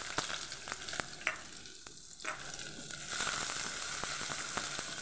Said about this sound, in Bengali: ভাজা ভাজা হলেই আমি পেঁয়াজ কুচি দিয়ে দেবো।